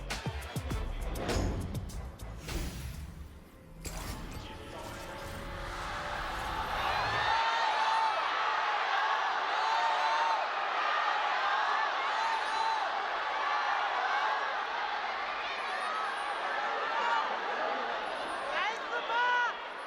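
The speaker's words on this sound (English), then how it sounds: "I don't know if they turned up the crowd in our headsets or they just got louder, but it is a packed house here in the Nanjing Olympic Sports Arena." A packed arena crowd at the Nanjing Olympic Sports Arena during an esports match, a broad roar of cheering and babble that swells after a few seconds and holds loudly, following a brief stretch of talk.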